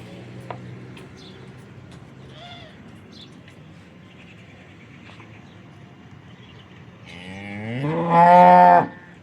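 A local Banaskantha cow lets out a loud, drawn-out moo near the end, close by, after several seconds of quiet farmyard background with faint distant animal calls.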